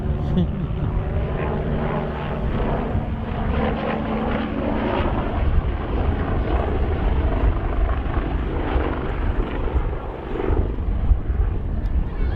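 An AgustaWestland A109 helicopter landing at the RAF Cosford air show, its steady rotor and engine drone loud and continuous throughout, with a commentator talking over it.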